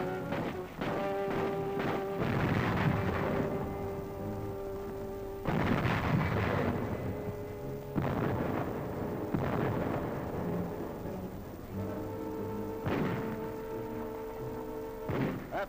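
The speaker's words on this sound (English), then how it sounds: "The Nazis direct their fire across the harbor." Archival war footage of artillery fire bombarding a harbor: a series of heavy, rumbling blasts and booms roll in at intervals with long decaying tails, somewhat distant and muffled, with no speech.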